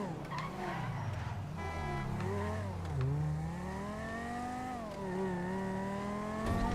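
A car in the video game GTA revs its engine with rising and falling pitch as its tires squeal and skid while being driven over curbs, steady and close throughout with no talk.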